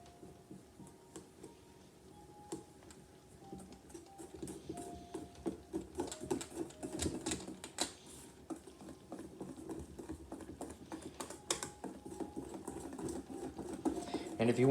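Whisk stirring brownie batter ingredients together in a bowl, a quiet, rapid, patterned scraping and tapping that grows busier, with a person talking over it.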